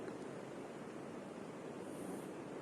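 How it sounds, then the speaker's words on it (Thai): Steady, dense rushing water roar, continuous and fairly distant, like a large waterfall heard from a short way off, with no voices. "โอ้ได้ยินเสียงเหมือนน้ำตก สายใหญ่อยู่ข้างหน้า"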